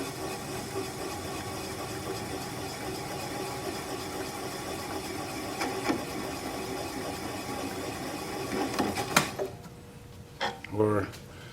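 A wood lathe turns a butternut bowl as a gouge cuts through, giving a steady mid-pitched motor hum with a scraping cut that ends in a few sharp knocks and clatters as the piece breaks free.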